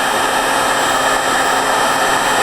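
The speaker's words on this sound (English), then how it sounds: "And then here I have a heat gun, but you can use a hairdryer." A heat gun blows hot air to melt plastic for Christmas decorating, giving a loud, steady, unbroken whoosh-and-whine that stays constant throughout, with no talking over it.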